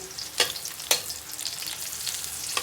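Chopped onion sautéing in a pan for a Filipino sardine and bottle gourd dish, a steady quiet sizzle punctuated by a few sharp stirring clinks.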